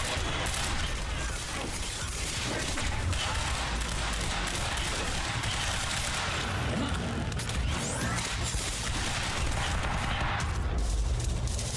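Gunfire in the action shooter Quantum Break comes as repeated bursts of shots mixed with crashes and impacts. It keeps up a dense, loud barrage through the whole stretch and has the feel of close combat.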